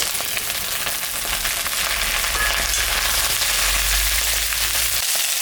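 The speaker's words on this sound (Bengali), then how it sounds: "পেঁয়াজটা ভাজা ভাজা হয়ে গেছে। এখন আমি ভেন্ডিটা দিয়ে দেবো।" Okra goes into a pan of frying onions, and a loud, dense sizzle crackles on steadily throughout, alone with no voices.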